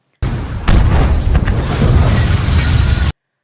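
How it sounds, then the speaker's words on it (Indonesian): A building explodes with a deep, heavy boom that keeps roaring with rumbling debris noise for about three seconds, loud and close, with no voices, in a film. "Tapi gedung itu tiba-tiba meledak saat mereka baru saja mau mendekatinya."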